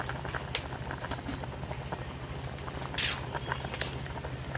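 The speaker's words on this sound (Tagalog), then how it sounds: "So, ayan na guys, kumukulo ng ating lechon" A pot of pork lechon paksiw stew bubbling at a steady boil, with continuous close gurgling and popping, plus a couple of brief louder hisses.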